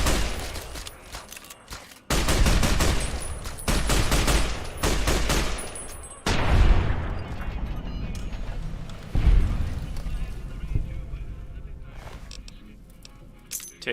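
A shootout in Fallout: New Vegas: bursts of automatic gunfire and heavy single shots come in loud clusters separated by brief pauses, with booming impacts and a voice talking between volleys.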